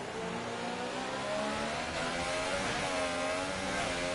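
Formula 1 race car engine from F1 2018 revving high and steady, a continuous loud whine that climbs slightly in pitch as it accelerates, heard alone.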